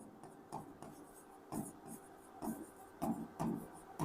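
Marker or chalk scratches on a board during an English grammar class, a series of short, faint strokes and scrapes in an irregular rhythm, heard close up without talk.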